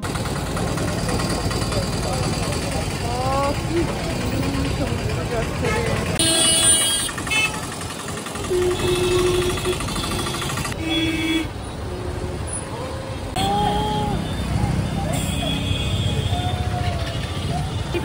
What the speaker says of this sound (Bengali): রাত 9:45 পর্যন্ত পুরীর স্বর্গদ্বার চত্বর এবং তার আশেপাশে কী লেভেলের ট্রাফিক জ্যাম হয়